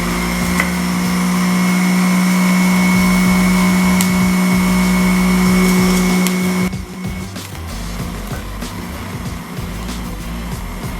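Hamilton Beach Premium Big Mouth juicer grinding a handful of spinach, a loud continuous motor drone that drops and roughens partway through as the leaves pass through, with no talking.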